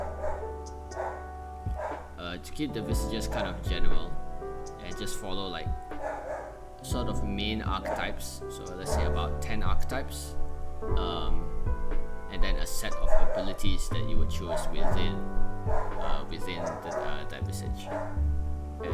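A dog barks and yips intermittently in the background of a tabletop RPG development stream, while a person talks steadily over it.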